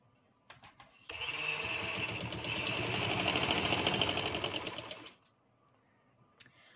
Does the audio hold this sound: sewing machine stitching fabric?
yes